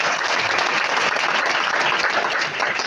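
Steady, dense applause from an audience at a motivational talk event in Malappuram, filling the whole stretch loudly and evenly with no voices over it.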